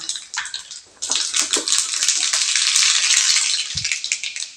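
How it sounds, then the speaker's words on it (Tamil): Mustard seeds crackle and sizzle in hot oil in a kadai on a stove, a dense, loud, steady spitting that starts abruptly after a quieter moment and continues close up. "அடுப்பில் கடாய் வச்சு எண்ணெய் ஊற்றி கடுகு சேர்த்துக்கலாங்க"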